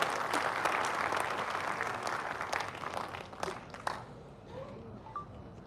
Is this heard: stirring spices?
no